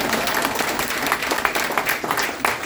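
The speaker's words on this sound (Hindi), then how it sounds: "तालियां बजा सकते हैं जोर से।" Loud audience applause at a talk, a fairly close, steady clapping crowd with individual claps popping out of the dense wash.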